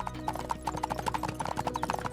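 Horses carrying samurai ride through a village, with a steady, quick, close clip-clop of hooves on hard ground and a faint low hum beneath.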